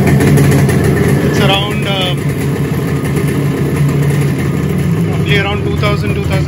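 Motorcycle engine fitted with an Allied Lighting coil, idling steadily nearby with a constant low throb, while a person talks over it.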